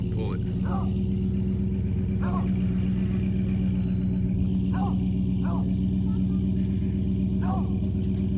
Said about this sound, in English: about to pull a boat and truck and trailer all out of the lake if it'll pull it